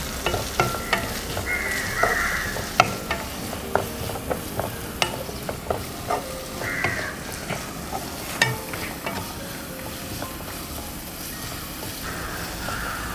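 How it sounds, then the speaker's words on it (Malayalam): Onions sautéing with turmeric and salt in a pan for a restaurant-style chicken dish: a steady frying sizzle under repeated scraping strokes of a spatula, close and moderately loud, with no one talking. "കുറച്ച് ഉപ്പും കൂടി ചേർത്ത് നന്നായിട്ടൊന്ന് വഴറ്റിയെടുക്കാം"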